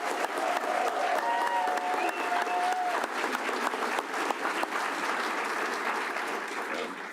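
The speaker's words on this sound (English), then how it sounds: "I want to take a moment to let her hear one round of applause for that." Graduation audience breaks into sustained, dense applause from a large crowd, steady and loud throughout with faint whistles near the start.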